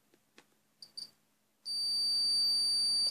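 A multimeter gives a continuity-test beep, one steady high-pitched electronic tone that sounds suddenly after a few faint clicks of probes touching a replacement Lego 9V wire, then holds until the end.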